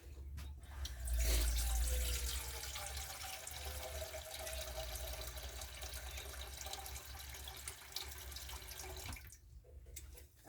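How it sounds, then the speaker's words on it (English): Tap water pours steadily into a bowl in a home kitchen, a continuous rushing stream that swells at the start, holds for several seconds, then cuts off near the end. "I'm going to fill it with water and I'm going to set it on top"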